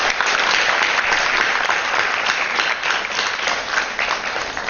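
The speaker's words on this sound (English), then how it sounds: "Round of applause for our panelists." Steady, dense applause from a sizable audience at a business conference, loud and continuous throughout with no pauses.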